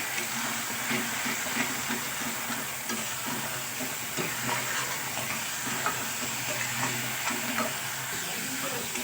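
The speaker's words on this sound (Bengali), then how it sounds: "তো আমি আবারও সব কিছু খুব ভালো করে তেলের মধ্যে নাড়াচাড়া করে নেব।" Onion paste, tomato paste and spices being stirred in hot oil while cooking a local magur catfish curry, giving a continuous close sizzle with scraping stirs and soft rattles throughout.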